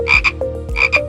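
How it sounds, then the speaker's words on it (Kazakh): A frog croaks in close, loud, paired bursts that repeat in a steady rhythm, with nothing else heard alongside. "Бақа бақылдайды."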